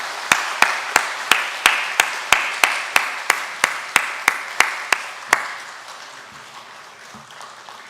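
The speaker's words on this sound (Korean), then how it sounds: "여러분들 큰 박수로 격려하시기 바랍니다" A church congregation at a Sunday morning worship service claps in steady unison, about seventeen sharp, evenly spaced claps, before the clapping stops and a quiet room tone lingers.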